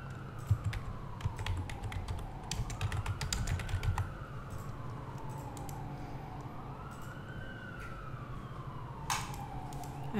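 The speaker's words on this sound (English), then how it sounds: "So I'm going to type that into a new idea search." A search is typed on a computer keyboard in quick bursts of close, light key clicks, while a siren wails faintly in the distance.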